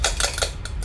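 Metal utensils clatter and scrape against dishes as food for a Christmas roast dinner is moved into a bowl, a few quick clinks close up with no talking.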